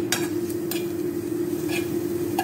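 Garlic going into a hot pan while cooking chicken burger filling, giving a soft, close sizzle over a steady hum, with a few light scraping stir clicks.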